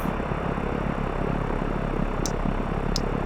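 Steady propeller drone of a simulated Mooney M20R Ovation on its takeoff run at Milano Bresso, a continuous broadband engine roar holding level throughout with no voices.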